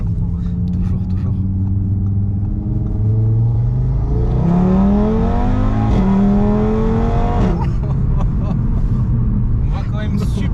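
Engine of an Audi RS3 tuned to 600 hp pulling hard from inside the cabin, its pitch climbing through a couple of gear changes, sustained and loud beneath steady conversation.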